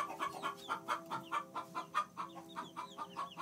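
Hens giving their egg-laying chant near the nest box, a rapid run of rhythmic clucks about every quarter second, faint and fairly distant with a steady hum underneath.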